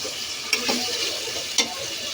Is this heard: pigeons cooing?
no